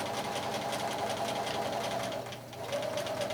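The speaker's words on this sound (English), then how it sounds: "And then I'm going to sew a straight seam, keeping it lined up with the 3rd line over." A sewing machine stitches a straight seam through fabric, running steadily with a continuous, close mechanical whir and rapid needle rhythm that dips briefly before resuming.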